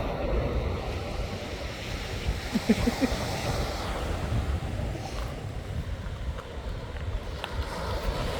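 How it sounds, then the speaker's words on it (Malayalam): Ocean waves break and wash steadily along the shore at Montauk near the lighthouse, a continuous loud roar of surf mixed with wind buffeting the microphone and no clear talking. "അടുത്ത തിരകൾ വന്നു കഴിഞ്ഞിട്ട് വേണം അത് അത്ര വീശി അടിച്ചുകൊണ്ടിരുന്നുണ്ട്"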